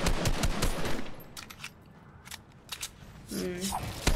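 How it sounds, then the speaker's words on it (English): Gunfire in Fortnite late-game arena trios crackles in rapid bursts, loud and close at first, then thinner sporadic shots, with a player talking over it. "Okay, let's shoot those guys."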